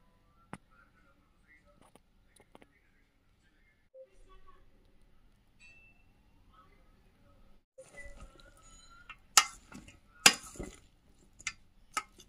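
Vegetables are tossed with drops of olive oil and white vinegar in a bowl, with faint scattered taps at first and then a flurry of louder clinks and knocks from the utensil against the bowl.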